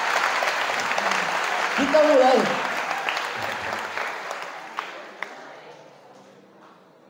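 A large crowd at a live motivational seminar at an Islamic Qur'an memorisation school applauds, the clapping gradually fading while someone speaks briefly over it.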